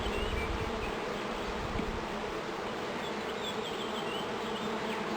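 Honeybees hum steadily around an opened top bar hive, a dense continuous buzz with a few individual bees passing close.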